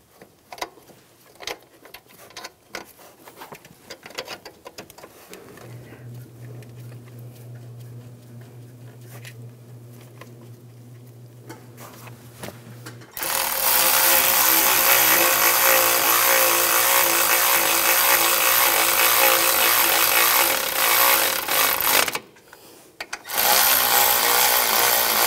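Power tool tightening alternator bolts on a Cadillac Escalade 6.2L V8, first faint ticking and clicks, then a loud, sustained rattling drive that stops briefly and resumes, close up.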